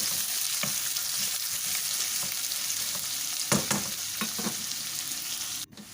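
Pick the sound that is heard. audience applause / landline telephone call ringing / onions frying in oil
onions frying in oil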